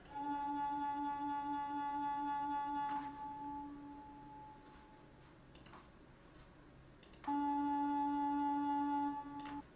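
A sustained Hauptwerk virtual pipe organ tone pulses with a fast, even tremulant wavering, stops with a click, then returns after a quieter pause.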